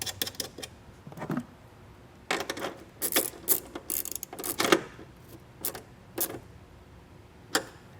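A ratchet tightening a nut on a battery post in a 2023 vehicle, quick bursts of close clicking with short pauses between, fairly quiet, no talk.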